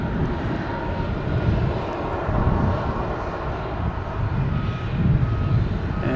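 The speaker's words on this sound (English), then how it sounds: "as soon as that British Airways plane landed, we have a Delta heading to London" A British Airways jet lands at Logan Airport at night, its engines producing a loud, continuous broadband roar that rumbles steadily throughout with slight swells.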